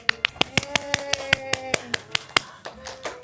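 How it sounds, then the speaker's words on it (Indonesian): Hands clap in a quick, fairly even rhythm, about a dozen crisp, close claps, with tonal voices or singing running underneath. "Tepuk tangan, tepuk tangan."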